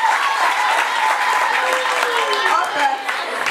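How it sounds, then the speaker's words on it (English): A crowd at a menstrual hygiene donation event claps for the foundation's national coordinator, a brief burst of steady applause with voices audible over it. "Please clap for her again"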